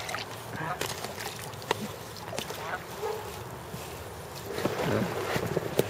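Paddling a Seahawk 4 kayak on open water, with sloshing strokes and water movement running steadily throughout, while voices talk over it.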